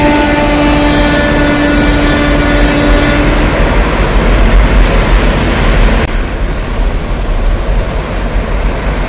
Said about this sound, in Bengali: এখান থেকে কিন্তু রীতিমতন ট্রেন চলছে, এক্সপ্রেস যাচ্ছে।